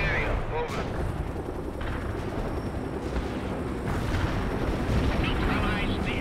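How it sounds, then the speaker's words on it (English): Carpet bombing in the World in Conflict strategy game, a dense, continuous rumble of explosions and heavy booms rolling on throughout, with radio-style voices talking over the barrage. "Carpet bombing requested."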